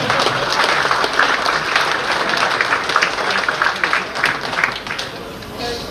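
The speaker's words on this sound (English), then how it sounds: "I think he deserves a round of applause." Audience applause for the ASIMO humanoid robot after a running demonstration, a dense, steady wash of many hands clapping at close range that holds at an even level throughout.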